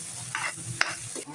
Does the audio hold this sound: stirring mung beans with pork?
yes